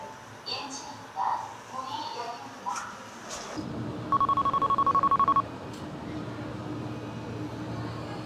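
A telephone gives off a steady series of short, evenly pulsed beeps near a department store elevator, following a change in background rumble, with people talking faintly beforehand.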